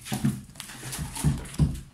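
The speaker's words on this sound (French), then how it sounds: "le chat et le chien qui jouent" A dog plays with a cat indoors, giving short whimpering and huffing vocal bursts at irregular intervals amid light scuffling, fairly close and moderately loud with no talking.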